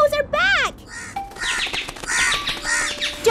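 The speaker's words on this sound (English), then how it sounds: "The crows are back!" Crows caw in a series of harsh, rising-and-falling calls, several overlapping cries close by and loud, with brief gaps between them and no talking.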